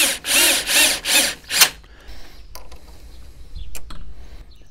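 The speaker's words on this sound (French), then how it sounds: "Un vis à bois dans du métal." A wood screw driven into metal with a power drill while fitting a door lock, several loud bursts of whirring driving in quick succession, then quieter handling clicks and rustle.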